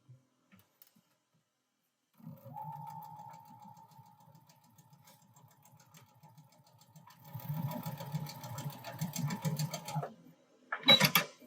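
After a quiet pause, a sewing machine pieces quilt fabric rectangles together. It starts with a low running hum, picks up into faster, louder stitching, and ends with a short mechanical clatter as it stops.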